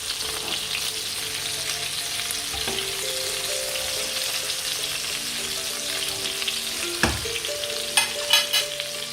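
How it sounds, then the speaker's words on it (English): Meatballs frying in a pan, a steady broadband sizzle running throughout with a couple of brief clinks and stirring knocks near the end, no talking. "It's just about 2 minutes only. That's all we need to fry."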